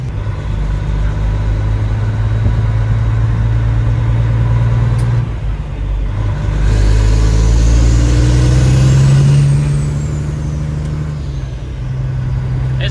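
A heavy-haul Peterbilt truck idles with a loud, steady diesel drone, swelling briefly as the engine revs up and settles back, close by with no talk.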